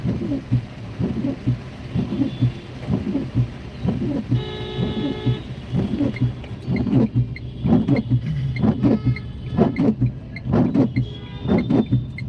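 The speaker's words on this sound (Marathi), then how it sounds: "मुसळधार पाऊस आहे" Heavy rain pours steadily, with a pulsing low rumble underneath and a brief tonal hum partway through.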